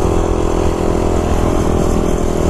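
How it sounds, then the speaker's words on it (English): Motorcycle engine roaring loudly and steadily at high revs right up close, a continuous throbbing drone with no break, as the rider winds it up for a wheelie. "Can I do a wheelie like this?"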